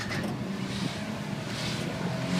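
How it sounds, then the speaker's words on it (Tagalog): A steady Ferrari engine hums at moderate level throughout, a continuous low drone with a slight rise toward the end and no talking. "naririnig niyo yung makina? Ferrari yan."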